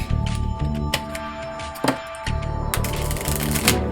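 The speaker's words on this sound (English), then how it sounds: "Shuffle the deck." A deck of playing cards is shuffled for a card game: close, crisp riffling and flicking bursts that come in uneven clusters, with a longer rippling run near the end and no talk.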